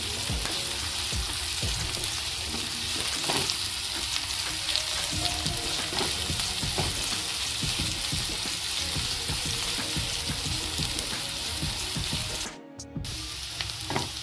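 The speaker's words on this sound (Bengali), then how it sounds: "পেঁয়াজটা হালকা হালকা ভেজে নেব।" Chopped onion and green chilli fry in a pan with a loud, continuous sizzle, broken by scraping stir sounds and a short dip near the end.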